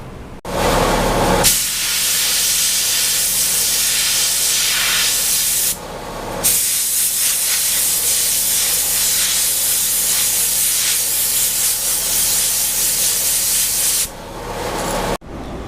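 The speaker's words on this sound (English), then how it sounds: "I'm gonna blow it out with the air compressor." An air compressor nozzle blasts air through a car's disassembled air box with the filter removed, a loud, close, continuous hiss running in long bursts with two brief pauses.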